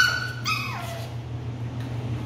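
A puppy gives a few high, wavering whimpers and yips close by, with a drawn-out falling cry near the start and a softer whine later, over a steady low background hum.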